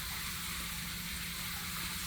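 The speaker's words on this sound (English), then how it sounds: "So here's the quench water in and out." Quench water gushes steadily through feed lines in and out on a drum setup, a continuous loud rushing flow with no break and no speech.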